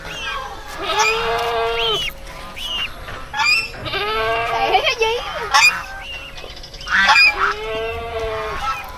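Large and small geese honk in repeated loud bursts nearby, with rising calls spaced every second or two and some talking in between.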